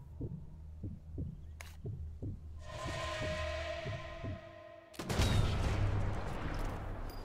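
A rapid series of sharp gunshot pops fires in a rhythmic burst in Sniper Elite 4, followed by a sustained tone and then a louder, noisy blast of gunfire.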